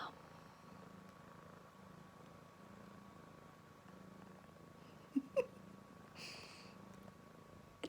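Cats in a two-cat household purring softly and steadily at close range, with a couple of brief sharp knocks near the middle and quiet room noise around them.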